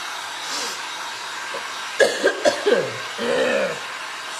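A hair dryer blows a steady, close whoosh over glass and resin beach art while someone coughs and laughs briefly partway through.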